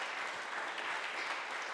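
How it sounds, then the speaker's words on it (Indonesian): Audience at a campus student orientation session applauding the morning's presenter, a short burst of dense, even clapping throughout. "Boleh kita berikan tepuk tangan bagi pemateri kita pada pagi hari ini"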